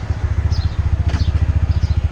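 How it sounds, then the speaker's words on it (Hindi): Sports motorcycle heading off-road through a small lane, its engine chugging in a fast, even low pulse close by, with faint higher sounds above it. "ज़रा सा ऑफ रोडिंग करूँगा विद द स्पोर्ट्स बाइक."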